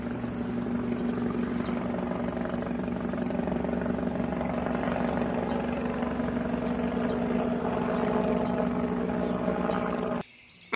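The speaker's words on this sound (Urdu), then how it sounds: "دوسری طرف ٹونی چڑیا ہیلی کاپٹر میں کالو کوے کو لینے چلے آتے ہیں" A cartoon helicopter flies in carrying a sparrow to fetch a crow, its rotor giving a loud, steady, throbbing drone that holds for about ten seconds before cutting off abruptly, with no talking.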